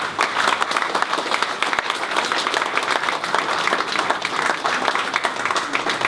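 An audience at an honours ceremony bursts into sustained applause, with dense, even clapping from many hands continuing steadily throughout, close and loud.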